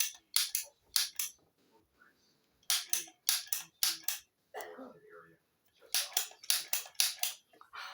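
A cookie press pushes out Italian butter cookie dough with sharp, quick clicks in clustered groups of three or four, close and crisp, with brief pauses between batches and a little soft talking in the gaps.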